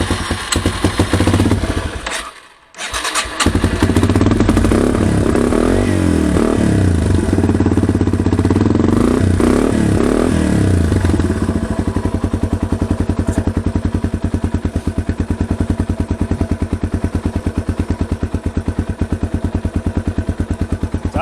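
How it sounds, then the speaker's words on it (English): A Yamaha TW200 motorcycle engine with a fuel-leaking carburetor idles steadily and loudly up close, with a brief dip near the start before settling into a low, even rumble. "It's idling."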